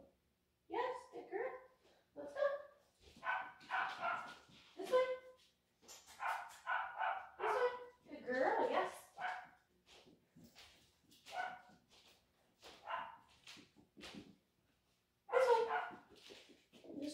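Dogs bark in short bursts in the background while a person talks over them nearby. The barking comes and goes across the whole stretch.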